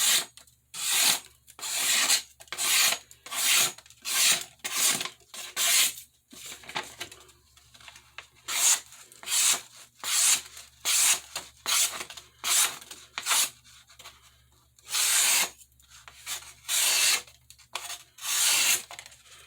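Santoku knife stroked back and forth across a fine sharpening stone, a steady run of rhythmic rasping passes, close and fairly loud, with brief pauses between groups of strokes and no talk.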